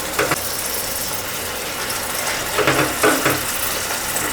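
Okra pakoda, crispy lady's finger fritters, frying in hot oil, giving a steady dense sizzle with a few louder crackling bursts and stirring clatters near the end, with no talking.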